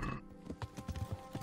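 Horse hooves clip-clop in the medieval role-playing game Kingdom Come: Deliverance, a run of close, regular hoofbeats with a brief whinny-like sound near the start.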